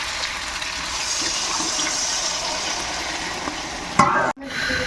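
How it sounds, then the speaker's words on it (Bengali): Water poured into a hot pan of sautéed eggs and potatoes with ginger-garlic paste for an egg curry: a steady sizzle, then a brief loud rushing hiss near the end before a sudden cut, with no talking. "এবার জল দিয়ে দেবো"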